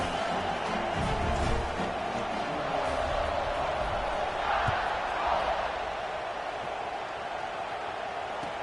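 Football stadium crowd before a kickoff in a Notre Dame versus Alabama college game, a steady roar of fans filling the whole stretch with no clear peaks, broad and distant.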